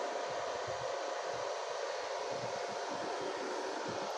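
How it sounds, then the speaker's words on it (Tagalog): A steady, smooth whoosh of a Samsung Medison Accuvix A30 ultrasound machine's cooling fan blower, continuous broadband air noise at a constant level with no voices. "So smooth na yung kanyang fan blower niya."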